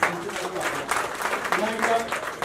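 A crowd at a political event claps steadily throughout, with a voice speaking loudly over the applause.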